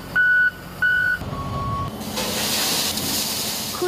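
A salt truck gives two loud reversing beeps and a fainter third while crews load trucks with salt ahead of a snowstorm. A broad hiss of pouring or blowing salt and engine noise then rises and fills the rest.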